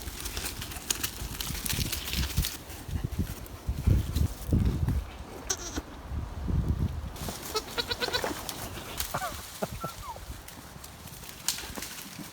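Goats bleat in a handful of short calls scattered across an outdoor farm scene, mixed with hoof clip-clop, rustling and low handling noise; faint voices are present in places.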